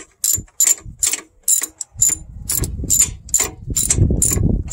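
Ratchet tightening the thermostat housing bracket bolts, including a long 12 mm bolt, on a 2005 Honda Pilot EX: a run of sharp, close clicking bursts in quick rhythm over low mechanical rumble, with no talk.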